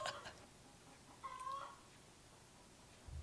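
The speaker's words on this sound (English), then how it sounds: "My chickens are gonna start singing their egg songs." Backyard hens sing their egg songs faintly in the background: brief, distant clucking calls, including one drawn-out cackle, rise over a quiet, steady room hush.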